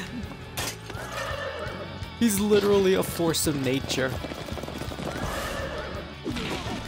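Horse in Dynasty Warriors 9 lets out a loud, shrill whinny amid galloping hooves and crashing battle clatter, with someone talking over the game sounds.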